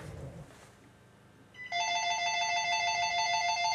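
After a faint voice and a quiet room, a nearby telephone begins ringing with a bright, rapidly warbling electronic trill that repeats steadily and loudly to the end.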